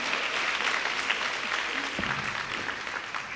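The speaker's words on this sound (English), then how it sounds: "I always want to encourage a hearty hand clap for Leslie and her vision regarding Women of" An awards ceremony audience gives sustained, dense applause at steady loudness, with no one speaking over it.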